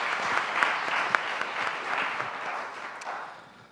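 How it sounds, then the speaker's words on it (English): A conference audience gives a short, dense burst of applause with scattered sharper claps, moderately loud and steady before fading slightly at the end, without any speech over it. "So please join me in a round of applause for all of the work that they've done."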